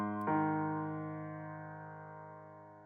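Opening notes of a Kingdom Hearts piece on a virtual piano, a sustained tone followed by one crisp keyed note that rings and fades gradually, with no voices.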